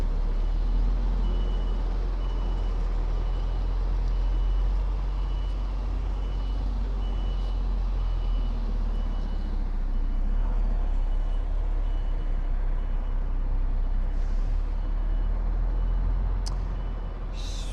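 An HGV truck reverses into a yard with a steady diesel engine rumble and a repeating reversing beeper throughout, plus a short hiss of air near the end; no one speaks.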